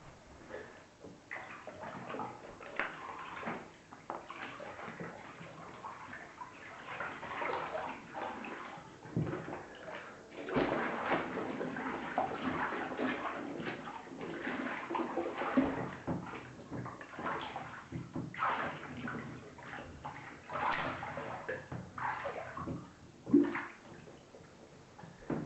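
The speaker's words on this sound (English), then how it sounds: "So we'll just give these a quick swish round, just to make sure the water and detergents are working its way through the fibres." Unwashed raw denim jeans, Levi's 511 worn for a year, are swished by hand through water and detergent, giving soft irregular sloshes and splashes at low volume, with occasional faint knocks.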